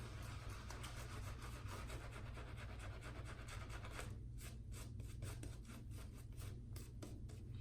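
A shaving brush works up lather from a shaving soap in a bowl, a fast, rhythmic wet rubbing and swishing close up. The strokes are quiet and repeat evenly over a steady low background hum.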